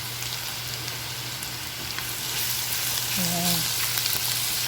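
Garlic sizzles and crackles in a hot frying pan for fried rice, a steady bright hiss that swells slightly as it cooks, close up, with a brief spoken word over it.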